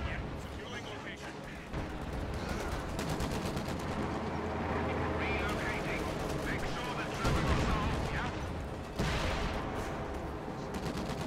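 Anti-tank gun fire in Company of Heroes 2, with repeated booming shots and dense battle noise running throughout, under lively talk.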